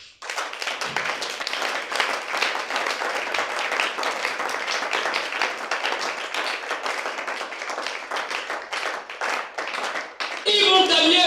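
A church congregation applauds the Lord Jesus with sustained, dense clapping that runs close and steady for about ten seconds, then gives way to a voice at the very end.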